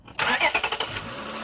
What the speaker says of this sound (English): So now we're just gonna do a startup of the car.